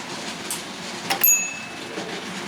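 A railway signal box block bell rings in reply with a sharp metallic strike and a clear ringing tone that fades slowly, heard alone in a quiet room.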